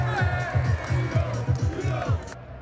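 Crowd of Tottenham Hotspur fans at a Europa League victory parade in London cheering and chanting in a rhythmic pattern, a loud dense roar of voices with pulsing low chants throughout.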